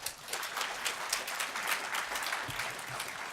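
An audience claps steadily after a presentation on airborne electromagnetic inversion, a dense, even patter of many hands in a room that holds at a moderate level throughout.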